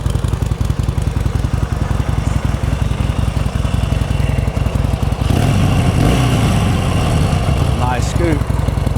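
A Harley Davidson Sportster 1200 Custom motorcycle idles close by with a loud, rapid, lumpy engine thump. Partway through, wind buffets and other noises rise over the steady idle.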